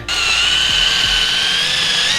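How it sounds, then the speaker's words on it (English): A power drill bores through Bondo filler and the inner skin of a Nissan S13 hatch lid, a loud, steady high-pitched whine running continuously from the first instant, close and alone. "So you drill through that Bondo. So now we're drilling through the second skin so we could use that as a pilot hole for our hole saw."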